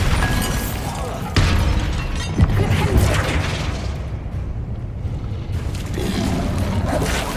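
Bombarda spell explosions in the Hogwarts Legacy video game: loud crashing blasts with a heavy low rumble, a sharp burst partway in, then lingering debris and thuds fading out before another surge.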